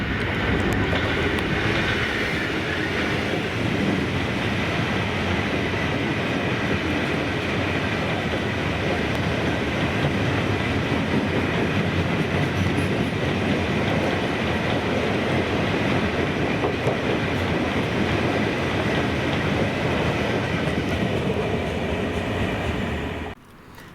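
A freight train hauled by locomotive 66706 on the Dunblane to Millerhill run in Scotland passes steadily and fairly close, with a continuous rumble and rattle of wagons that lasts almost half a minute before cutting off.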